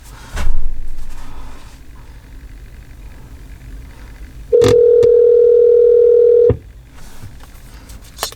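A call ringing through a Joying Android car stereo head unit installed in a 2018 Toyota C-HR XLE: one loud steady tone held for about two seconds, bracketed by clicks and quiet cabin noise.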